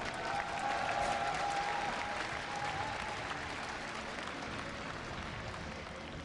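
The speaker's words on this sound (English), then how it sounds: "if you'd like him to pull it off, give a cheer for Acer's Nerchio." A large esports crowd at a StarCraft 2 tournament final cheers and applauds loudly and steadily throughout, a dense wash of clapping and shouting with no talk over it.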